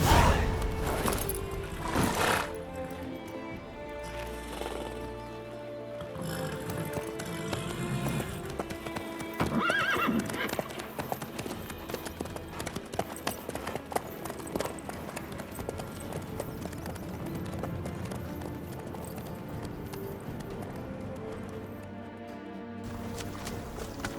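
A horse gallops in The Witcher 3, its rhythmic hoofbeats continuing throughout over game music.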